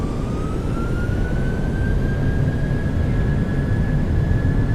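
PMDG 737-800 jet engines at takeoff power in Microsoft Flight Simulator, a loud steady roar under a thin whine that slowly rises in pitch as the engines spool, continuous with no voices.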